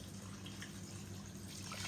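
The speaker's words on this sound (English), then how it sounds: "I'm going to pour it into the pot here just to cover that" Water poured into a cooking pot of rice for spinach rice with okra and chicken, a soft, steady trickle that runs low and faint the whole time with no voices over it.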